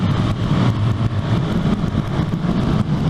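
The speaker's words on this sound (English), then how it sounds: "I don't know if you guys can hear that little engine go." Small KTM 390 Duke motorcycle engine running while riding, giving a steady, loud drone mixed with wind rush, with no talking over it.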